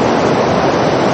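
Overflow water from a reservoir pours into the Kallang River in Singapore, a loud continuous rushing roar with no voices.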